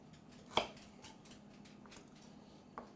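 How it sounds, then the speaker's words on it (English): A knife rough-chops garden onion on a cutting board, with one sharp close chop followed by softer scattered cuts and a second knock near the end, in a quiet kitchen. "We're gonna grab garden onion, just rough chop, because this is gonna be strained."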